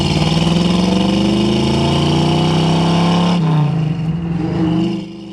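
A 1970 Ford Mustang with a 302 small-block V8, long-tube headers, full-length dual exhaust and aftermarket mufflers rumbles steadily, the engine note rising slightly before settling back toward a loud, close idle.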